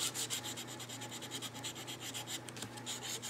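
Dark, coarser-grit side of an emery board rubbed steadily across paper during an embossing test, a close, continuous scratchy sanding sound with quick back-and-forth strokes.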